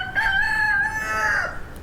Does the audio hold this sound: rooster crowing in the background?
yes